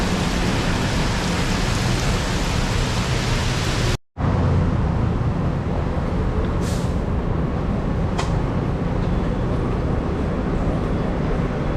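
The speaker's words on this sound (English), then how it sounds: "This is how when it rains here in Chow Kit area." Heavy rain pours down on a street in the Chow Kit area, a dense, steady roar of falling water heard close up, with a brief cut partway through and no voices.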